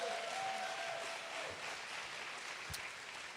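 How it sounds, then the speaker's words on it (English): Audience applause at a grant competition night, a steady wash of clapping that stays level and fairly loud for the whole stretch before tapering slightly, with no talk over it. "Give them one more round of applause"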